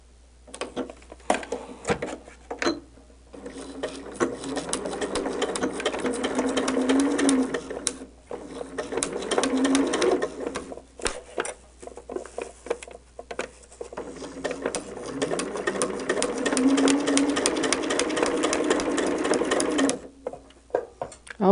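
Sewing machine stitching tiny quilt block pieces for a four corners block, running in steady bursts of rapid mechanical patter with short pauses between seams, close and continuous.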